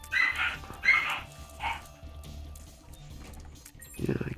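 Small yelping dog barks come from The Binding of Isaac: Repentance, several high, sharp game-sound cries in the first two seconds over faint background music, with a duller thump near the end.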